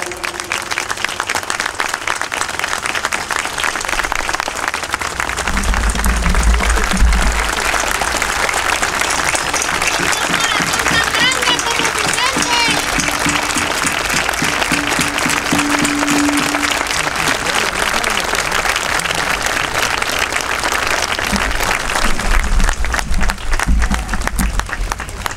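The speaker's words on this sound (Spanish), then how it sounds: "Para quien pido un minuto de aplausos en su memoria." A large municipal assembly gives a sustained round of applause in memory of Mario Martínez. The dense clapping from many people continues steadily for the whole stretch.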